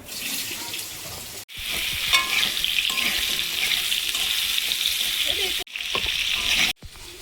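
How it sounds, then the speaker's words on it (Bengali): Pumpkin pieces fry in hot oil for a special mutton curry feast, giving a loud, steady sizzle with brief breaks where the sound cuts out, and occasional clinks, with no talking. "কুমড়োটা ভেজে নেব"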